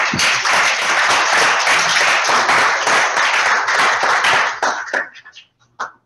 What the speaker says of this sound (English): Please give a round of applause for Mr. Len Marinaccio.